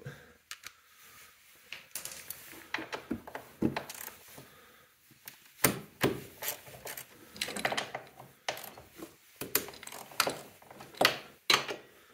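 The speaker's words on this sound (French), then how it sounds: "On va enlever nos écrous un peu partout." Nuts are taken off a snowmobile chain case cover on a Polaris Axys: scattered metallic clicks, clinks and rattles of a wrench and loose hardware, close and intermittent, with no talking.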